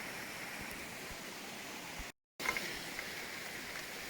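A creek below an old mining adit flows in a steady, broad rushing hiss, constant and moderately near, with a brief cut to silence partway through.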